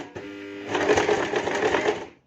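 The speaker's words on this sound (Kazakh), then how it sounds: "Тігіп бастаймыз." A sewing machine runs steadily while stitching a takiya skullcap, a continuous close whirring hum that starts briefly, then speeds up to a fuller, louder run before stopping abruptly.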